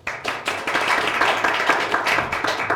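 A debate audience breaks into dense, sustained applause, many hands clapping loudly and continuously for a few seconds.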